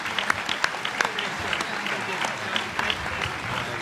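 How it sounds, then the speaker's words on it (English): Luncheon audience at the National Press Club applauding its speakers, a full round of clapping with sharp individual claps standing out, while a voice talks over it. "How about a round of applause for our speakers today?"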